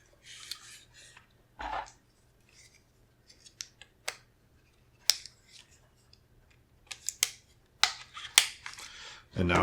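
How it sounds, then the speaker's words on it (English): Grip module removed from an IWI Carmel rifle by pressing a captive pin: scattered sharp metallic clicks and snaps, close and fairly loud, with pauses between parts handling. "we can pull the grip module out by depressing a captive pin"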